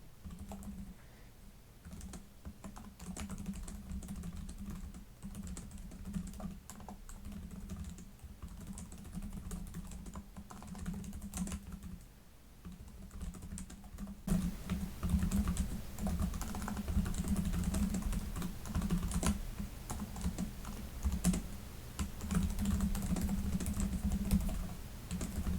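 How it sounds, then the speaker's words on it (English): Steady, continuous typing on the keyboard of a 2026 Lenovo Legion 5i 15-inch Gen 11 gaming laptop, close and clear for about 25 seconds, growing somewhat louder in the second half, with no talking. "it's a Lenovo Legion keyboard"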